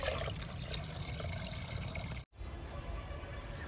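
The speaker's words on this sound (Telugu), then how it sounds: "ఇంకా ఇచ్చేద్దాము కాఫీ పొడి లిక్విడ్ని మొక్కలకి" Coffee-powder liquid poured onto flowering chrysanthemum plants, a steady soft splashing trickle of water that runs continuously, breaks off for a brief instant, then resumes; fairly quiet and close, with no talk.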